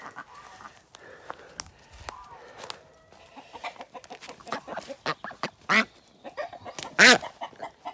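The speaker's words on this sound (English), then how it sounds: "Come on, mucky duck." Several farmyard ducks quack and chatter close by in irregular bursts while being herded into a pen, with a few louder calls near the end.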